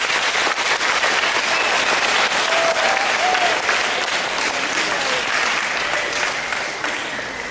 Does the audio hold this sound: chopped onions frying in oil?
no